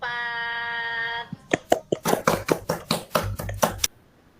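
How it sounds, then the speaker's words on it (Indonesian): A short burst of clapping from a small classroom group praising group 4 after its discussion, roughly a dozen sharp, uneven claps following a sustained tone, close and clear. "Tepuk tangan untuk kelompok"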